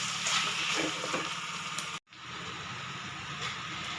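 Chicken pepper curry with crushed dried red chillies stirred in a pan, giving a steady close sizzle and fry with faint scraping, cut by a brief dropout midway before the sizzle resumes.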